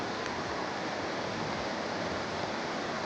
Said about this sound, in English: I really like this composition with the flowing water and the waterfall in the background